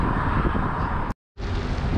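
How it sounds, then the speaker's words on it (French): Strong headwind roars across the microphone during a bikepacking ride on a Canadian road between Montebello and Gatineau, a loud broadband rush that cuts out briefly for a moment before resuming just as strong. "Bien avancer, mais on a le vent de face."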